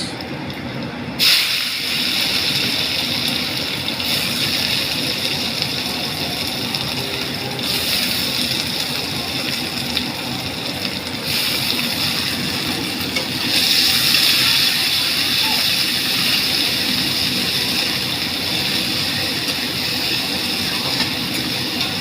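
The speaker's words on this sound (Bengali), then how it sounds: "হ্যাঁ, এইবারে আমি দেব পেঁয়াজ।" Onions fry in a pan with brinjal and potato, making a steady, loud, close sizzling hiss that goes on unbroken for over twenty seconds, with small surges in intensity and no speech.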